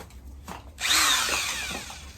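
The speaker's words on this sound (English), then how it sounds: "Power tools." A power tool whirs up after a brief quiet start, running with a steady high-pitched grinding drone that wavers slightly in pitch.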